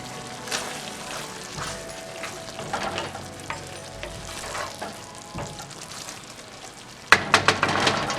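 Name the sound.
onions frying in a pan with barbecue chunks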